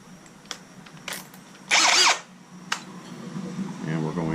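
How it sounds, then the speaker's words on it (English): A power drill with a 1/16 bit pilot-drills into wood, one short loud whirring burst of about a third of a second, set between faint clicks and handling noise. "We're going to be using a 1/16 drill bit."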